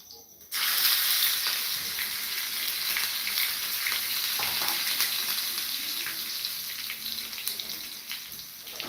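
Cumin seeds and a green chili tempering in hot oil give a steady, loud, close sizzle that starts abruptly and crackles on without pause, with no talk over it.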